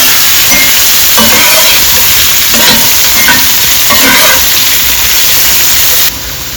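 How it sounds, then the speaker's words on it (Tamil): Potatoes with crushed garlic, curry leaves and drumstick leaves being stirred in a hot pan, giving a loud, steady sizzle with a few scraping strokes, close up before dropping in level at the end. "உருளைக்கிழங்கு போட்டோடனே கிளறி விட்டுருங்க"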